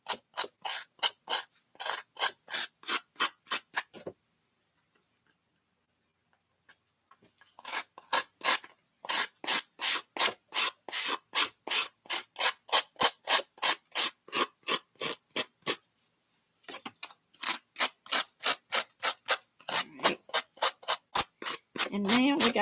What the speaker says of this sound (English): If you don't have a sanding block and you got a nail file will do the same thing.